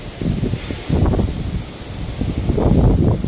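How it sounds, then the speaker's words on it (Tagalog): Strong wind buffets the microphone in steady low gusts after dark, with rustling around it and no clear voices. "Oh, lakas ng hangin, oh."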